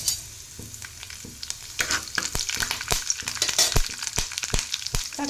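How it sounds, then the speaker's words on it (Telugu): Curry leaves hit hot oil in a tempering of urad dal and cumin, throwing out sharp, irregular pops and spits over a bubbling sizzle that grows busier as it goes on, with nobody speaking. "కరివేపాకు చిటపట అన్న తర్వాత"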